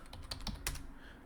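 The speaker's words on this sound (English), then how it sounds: "All right, let me type." Quick typing on a computer keyboard, a handful of light key clicks in an irregular rhythm, faint and close, with no voices.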